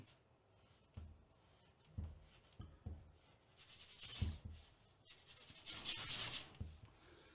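A medium brush scrubs oil paint onto canvas in short, dry rubbing strokes, starting as separate quiet scuffs and building into denser, rapid scrubbing, close and soft.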